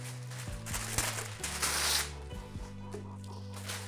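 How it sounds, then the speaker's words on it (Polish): Baking paper is unrolled and spread over aluminium foil on a kitchen counter while pork neck is being prepared, giving soft crinkling and rustling with a few light knocks, close by and fairly quiet. "rozkładam papier do pieczenia"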